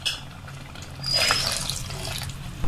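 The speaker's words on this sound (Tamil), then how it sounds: "தேவையான அளவு தண்ணியை சேர்த்து நல்லா மிக்ஸ் பண்ணி விட்டுடலாம்." Water splashes and trickles steadily into a cooking pot of fish curry being mixed, swelling louder midway as the pour gets heavier, with faint kitchen clatter.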